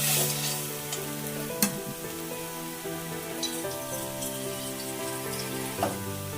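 Shrimp curry is stirred in a pan, giving a soft continuous sizzle with a couple of sharper scrapes, over steady tonal background music.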